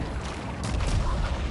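Gunfire in the sci-fi shooter Returnal: a dense, steady wash of rapid shots and blasts running the whole time, swelling into a louder burst partway through.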